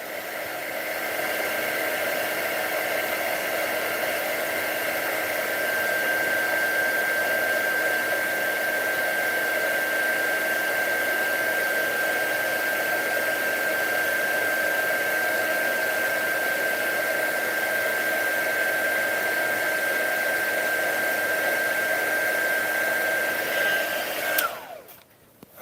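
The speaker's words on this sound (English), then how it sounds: "Sometimes I blow the hot air out because it will trip a little switch in there that shuts it out when it gets too hot." A hot air blower drying leather edge paint whirs with a steady airy roar and a thin constant whine for over twenty seconds, then cuts off abruptly.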